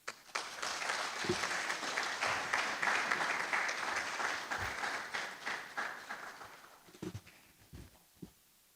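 Applause from the audience at a public forum on illegal mining, a steady wash of clapping that thins into a few scattered claps at the end, heard at a moderate distance.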